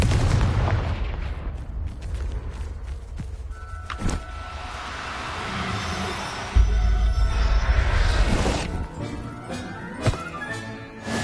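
A Confringo blasting spell goes off in the Hogwarts video game, a heavy booming explosion with a rumbling low-end burst, a sharp report partway through and more crackling impacts and game sounds after it.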